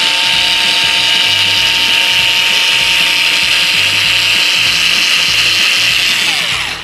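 A Bosch electric cutter whines steadily and loudly while cutting material, with a continuous high-pitched motor drone and small rhythmic low thumps underneath, no voices.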